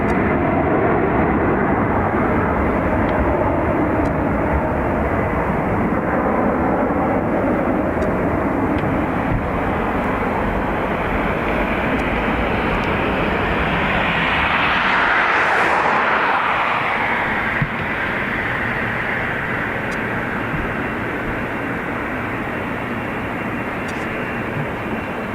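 Ryanair jet at Dublin Airport, rolling on the runway: a steady, loud broadband jet engine roar fills the whole clip, swelling briefly midway, with no talk.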